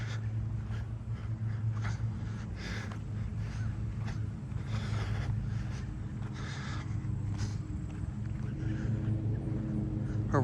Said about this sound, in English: I wish they would find a way to make lawnmowers quieter.